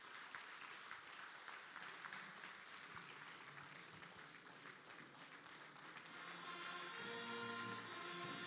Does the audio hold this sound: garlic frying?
no